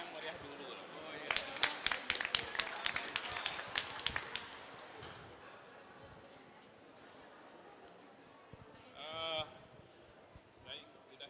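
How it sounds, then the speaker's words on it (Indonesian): An audience at an Islamic institute graduation ceremony in Lombok claps in a short burst of scattered, fairly faint applause that fades within a few seconds, followed by quiet room tone and brief voices. "Tepuk tangan yang meriah dulu"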